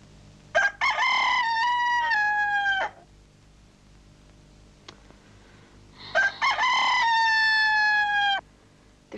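A rooster crows twice, loud and close, each long cock-a-doodle-doo lasting about two seconds with a pause between, over a faint background hum.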